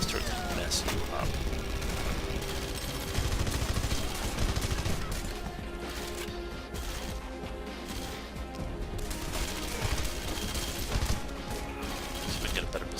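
Rapid gunfire from turrets in Red Faction: Guerrilla, a dense, loud stream of shots and impacts running throughout, mixed with crashes and other game noise, with a voice talking over it.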